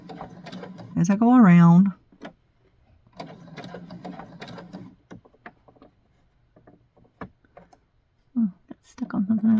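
A home sewing machine stitches fabric around a curved seam in short, stop-and-start runs of a few stitches at a time, heard close by beneath someone speaking.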